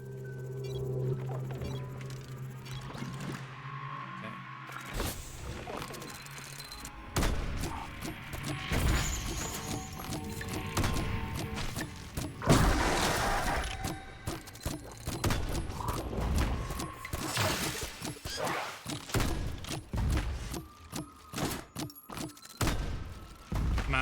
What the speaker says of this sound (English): my mortar has been fucking off point